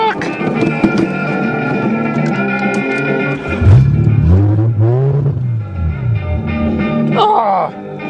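A Toyota Cressida that had trouble starting idles roughly up close. The loud engine note wavers and surges unevenly in pitch, and a short rising burst comes near the end.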